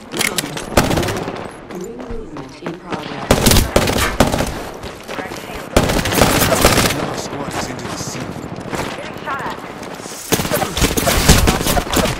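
Video game gunfire rattles in repeated automatic bursts and single loud shots, close and sharp, scattered across the whole stretch with brief gaps between volleys.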